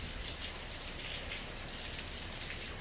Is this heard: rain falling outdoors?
yes